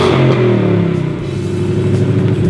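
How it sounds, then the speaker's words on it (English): A 2018 Ford Mustang GT V8 on stock exhaust driving along, steady loud engine drone with a rumbling low tone, no talk. "So this is the last time that I'll be driving the car with its stock exhaust."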